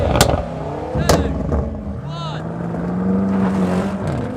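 A BMW M5 and a Mercedes-AMG E63 S launch side by side in a drag race, engines roaring loudly and revving up from the start, heard from inside a car under a speaking voice.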